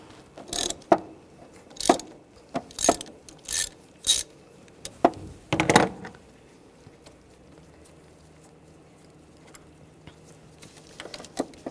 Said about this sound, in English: Using a 19mm socket. Get over the sensor, and we'll loosen that up.